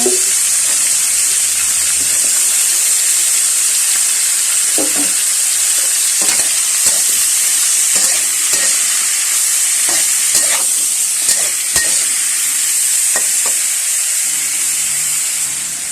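Green beans and mushrooms stir-fried in a pan give a steady loud sizzle and hiss, with repeated scraping and clacking strokes of the spatula as they are tossed throughout.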